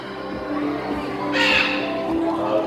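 A green-winged macaw at a bird show gives a harsh, raspy squawk amid an outdoor crowd, sounding loud and fairly close over a steady background murmur.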